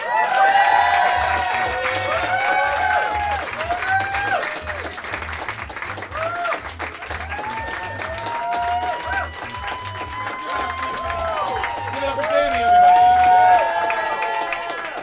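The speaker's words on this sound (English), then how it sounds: "Applause going for your next comic," A comedy club audience at a student standup showcase claps and cheers after a comic's set, sustained applause with whoops and shouts rising again near the end, while a voice talks over it.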